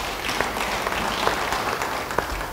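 A church congregation applauds a pastor during a sermon, with a fairly soft, even patter of many hands clapping throughout and no voices over it.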